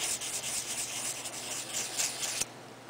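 Steady, fine abrasive rubbing of sandpaper over putty on a 1/48 scale Nu Gundam model kit part, close and continuous in quick back-and-forth strokes, stopping abruptly near the end.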